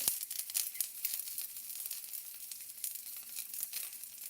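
Chopped onion and a little garlic sizzling and crackling in a pan over low heat, a continuous fizzing fry with small pops and no talk.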